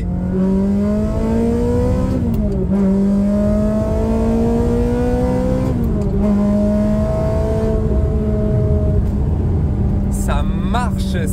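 A Ferrari 360 Modena engine holds a steady, loud note with its scandalous exhaust, briefly shifting pitch a couple of times during a drive, while a voice talks over it throughout.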